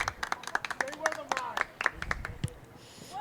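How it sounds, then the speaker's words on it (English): A soccer team's bench claps and cheers from the sideline during a varsity boys match, sharp hand claps mixed with shouting voices. "The Plymouth North bench cheering on their team."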